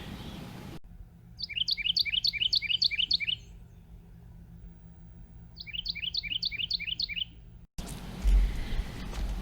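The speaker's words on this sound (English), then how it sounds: "So in addition to the Carolina wren, I thought I'd share with you some of the other birds that live in my yard" A Carolina wren sings in a backyard morning chorus: two bouts of loud, rapid, rolling repeated phrases, separated by a pause, over a faint steady background hum.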